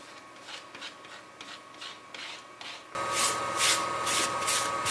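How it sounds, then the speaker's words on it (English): Acrylic black paint being scraped across an engraved surface from a Roland PNC 2300 engraver, heard as soft repeated rubbing strokes that grow louder and harsher partway through, with no talk. "I'm going to pop some little bit of acrylic black paint on there, and then scrape it over the surface"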